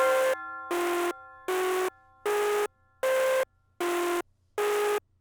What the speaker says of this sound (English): we add the basic yeet bell. It's like a tubular bell. We put that on top of the melody that we had before.